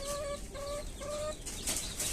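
A rooster gives three short, tonal clucks in a steady rhythm, close and fairly clear, followed by a brief rustling noise.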